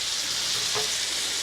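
Onions frying in butter in a pan give a steady, soft sizzle alone, with a brief louder crackle midway.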